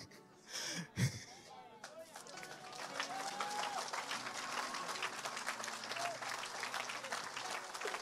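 A church crowd bursts into sustained applause and cheering after a brief shout, with voices calling out through the clapping.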